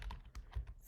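Quick light keystrokes on a computer keyboard, a brief burst of about five soft taps close by and quiet.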